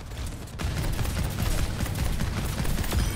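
Continuous rapid gunfire from Bastion in Overwatch 2, a steady dense stream of close, loud shots after a brief quieter moment, running without pause to the end.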